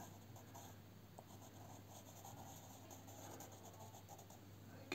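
A graphite pencil scratches steadily across paper in close, quiet strokes while a New Zealand landscape is being drawn, with a faint constant hum underneath and no talking.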